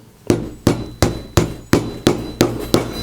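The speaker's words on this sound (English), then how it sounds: "just put it over the top until it locates the end of the rivet, and just hammer that down" Eight sharp, evenly spaced hammer blows strike a rivet setting tool on a leather belt in a steady rhythm, each loud and close with a quick ringing decay.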